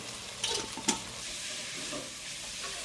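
Mutton chops fry in a pan for a Karnataka-style dish, giving a steady close sizzle with a few scraping stirs near the start.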